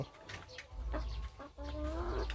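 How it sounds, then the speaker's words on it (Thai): Egg-laying hens in a small backyard flock of about twenty cluck in short, close, overlapping bursts, with no talking. "มาดูไก่เรา"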